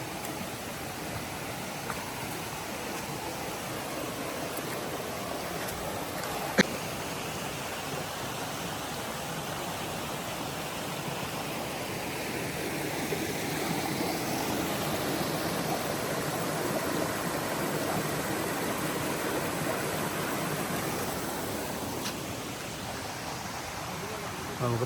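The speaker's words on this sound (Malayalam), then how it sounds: "വീണ്ടും ഒരു ചെറിയൊരു വെള്ളച്ചോല, ചെറിയ ഒരു തോട് എത്തിയിരിക്കുകയാണ്" A small forest stream flows along a hiking trail near Chimmini dam, a steady broadband rush of trickling water running close and even throughout, with one sharp brief knock partway through.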